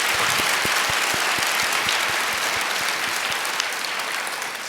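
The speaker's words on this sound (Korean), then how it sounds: "우리 다시 한번 하나님께 영광의 박수를 올리십시다" A church congregation gives sustained, dense applause, many hands clapping steadily together for several seconds without talk.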